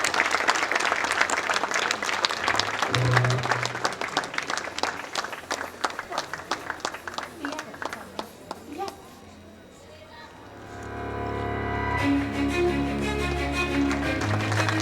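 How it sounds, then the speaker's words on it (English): An audience at a school event for a Class 1 performance breaks into dense, loud applause for about nine seconds, then it fades out and a quieter tonal sound follows. "I think they really deserve a round of applause."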